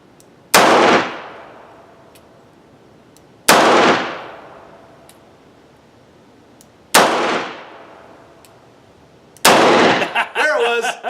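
Four loud, sharp gunshots from a Ruger LCR .357 Magnum revolver at an outdoor range, evenly spaced about three seconds apart, each with a ringing decay, the last followed by brief talk.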